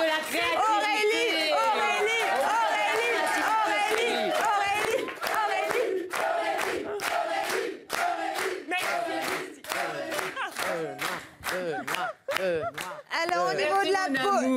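A French TV studio audience shouts and cheers loudly for an applause-meter vote, with voices whooping and calling out in a sustained, energetic din broken by brief lulls.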